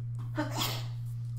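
One quick sneeze, close and breathy, over a steady low electrical hum.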